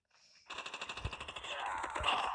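A short burst of rapid automatic gunfire rattles in a video game, fairly quiet, followed by a noisier blast as the clip ends.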